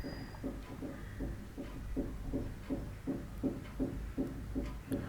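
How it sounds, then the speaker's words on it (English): Heartbeats picked up by a phone microphone sound as a steady run of soft, low thumps, roughly a dozen evenly spaced beats in five seconds, close and alone with no talking. "I stopped speaking and it was able to detect my heartbeats"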